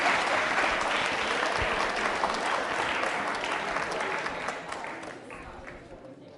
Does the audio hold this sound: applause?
yes